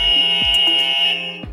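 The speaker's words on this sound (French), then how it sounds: "Eléa, vous avez été la première à buzzer." A quiz-game buzzer sounds as a contestant presses it, a loud steady electronic tone lasting over a second with a few short clicks, then a brief fade.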